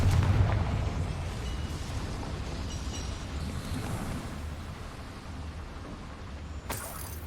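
Confringo fire spell blast in Hogwarts Legacy, a loud rumbling explosion that opens with a heavy low boom and decays into a sustained roar, followed by a sharp crack near the end.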